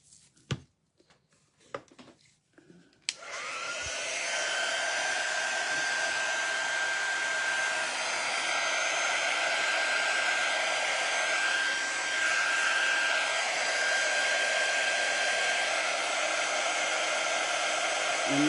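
A hair dryer blows steadily while drying a ladies' shoe, starting after a few seconds of faint clicks and rustling, then running as a loud, continuous whining rush with a steady high tone for the rest of the time.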